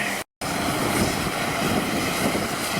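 A medical helicopter's engine and rotor drone loudly and steadily nearby after it has landed in a parking lot.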